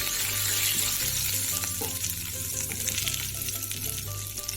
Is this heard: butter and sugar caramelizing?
yes